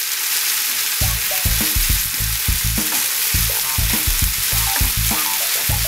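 Shrimp brown in olive oil in a pan, a loud, close sizzle broken by repeated scraping and stirring strokes in an uneven rhythm, with no voices.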